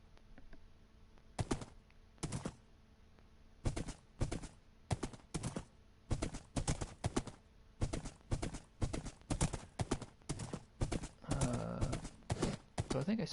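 Horse hooves clip-clop in a PS4 video game, a series of sharp, close hoof strikes that start sparse and then settle into a steady quick trotting rhythm, heard alone.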